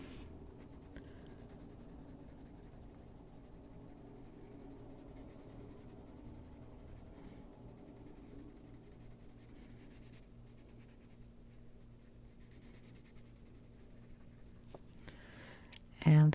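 Colored pencils scratch steadily across the paper of a coloring book, a soft continuous close-up rasp lasting throughout and ending in a brief louder knock.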